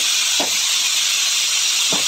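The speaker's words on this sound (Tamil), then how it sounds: "2 விசில் வந்தோன்னா ஸ்டவ் ஆஃப் பண்ணிடலாம்." A pressure cooker cooking millet rice kanji lets off steam in a loud, continuous hiss with two brief lower puffs.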